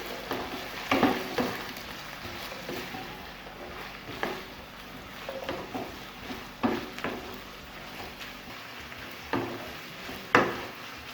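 Chicken with carrot and capsicum frying in a pan is stirred, with a soft continuous sizzle broken by repeated clacking spatula scrapes at irregular intervals.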